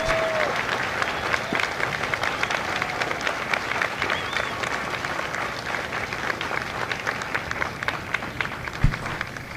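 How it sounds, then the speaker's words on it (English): Sustained, steady applause from a large crowd at a U.S. Marine Corps recruit graduation ceremony in San Diego, honoring former Marines standing in the audience; dense, even clapping with crowd noise throughout. "Ladies and gentlemen, a round of applause for their dedicated service to Corps and country."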